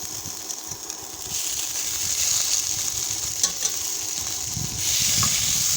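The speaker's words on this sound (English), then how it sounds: "We have to toss it nicely and mix thoroughly with the other ingredients" Cooked cluster bean pieces hiss and sizzle steadily in a hot pan as they are tossed with the other ingredients, with a few light scrapes and a louder burst of frying near the end.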